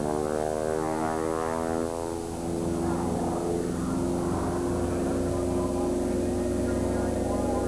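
A propeller stunt plane flies aerobatics at an air show, climbing over the top and snap-rolling down along a smoke trail. Its engine drones loud and continuous throughout, the pitch shifting as it maneuvers, with no talk.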